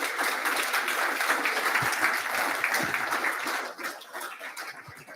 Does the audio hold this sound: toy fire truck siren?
no